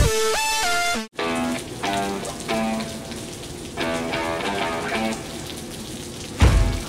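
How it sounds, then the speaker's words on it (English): Heavy rain pours down outdoors in the middle of Texas outside Austin, a steady broadband wash that fills the whole stretch after a short burst of tonal, music-like notes at the start. "it's pouring down rain"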